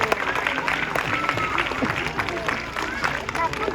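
Audience clapping for Nora the sea lion at a zoo sea lion show, steady crowd applause mixed with chatter and outdoor bustle.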